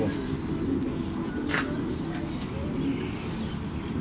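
Racing pigeons coo softly near their loft while birds return from a long training flight, low murmuring calls over a steady rumbling background.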